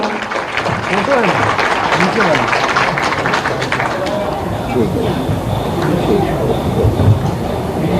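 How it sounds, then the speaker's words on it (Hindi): Loud, continuous clapping from a large audience at a government event in Bhopal for people with physical disabilities, dense and steady throughout, with voices murmuring and calling out beneath it. "जोरदार तालियां।"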